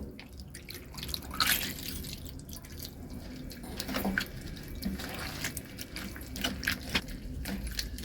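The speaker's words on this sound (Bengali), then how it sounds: "এবার আমি উপর থেকে আরও কিছুটা পরিমাণ জল দিয়ে দেব" Water is poured from above over mashed, softened cabbage, giving a quiet, uneven trickle with scattered drips and splashes throughout and no voices.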